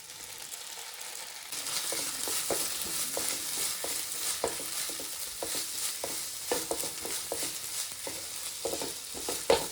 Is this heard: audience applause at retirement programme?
no